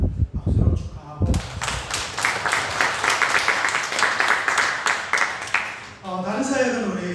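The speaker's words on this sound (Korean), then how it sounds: "박수로 축하하고" Applause from a church congregation celebrating a member's birthday, dense steady clapping following brief speech, fairly loud and sustained for several seconds before voices resume.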